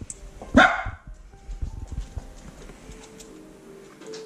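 A big dog gives one loud, close bark, followed by scuffling paws and softer movement sounds, with no talk.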